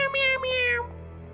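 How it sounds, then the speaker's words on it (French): A small cartoon cat gives a short, high meow lasting about a second, close and clear with faint background music underneath. "J'avais cru entendre un bruit, mais je crois que c'était qu'un petit chat."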